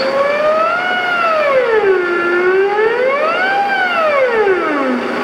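A theremin's eerie electronic tone glides smoothly up and down in slow, wavering swoops, loud and alone with rich overtones.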